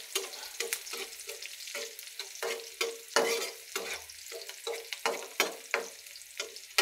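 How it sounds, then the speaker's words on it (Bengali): Onions frying in a pan are stirred with a utensil, giving repeated clattering scrapes over a soft underlying sizzle, close and fairly loud. "তো পেঁয়াজগুলো ভাজা হয়ে গেছে"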